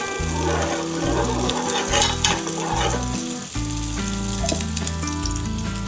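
A sweet cucumber pancake made without refined flour crisps in ghee over a low flame, giving a steady, close sizzle throughout with light background music underneath.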